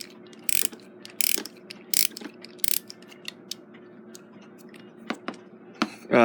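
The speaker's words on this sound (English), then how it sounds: "But we've got to wind the spring up first." The spring of a Gilbert long-drop octagon clock is wound up, producing a handful of crisp ratcheting clicks in short bursts with pauses between, close and quiet against a still room.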